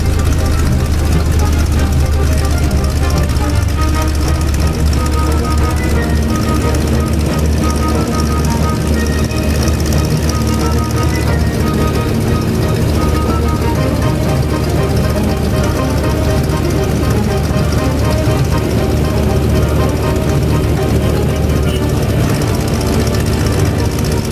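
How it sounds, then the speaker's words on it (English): Original Franklin 150 hp engine of a 1947 Stinson 108 four-seat sport airplane, a loud, steady low drone that runs unbroken throughout. "Has the original Franklin 150 horse engine in it."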